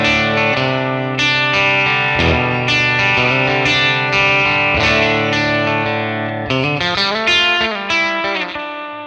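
Electric guitar on the bridge pickup through a 1966 Fender Blackface Bassman amp with some reverb, clean picked chords and single notes ringing bright and punchy, steady and close with no talking.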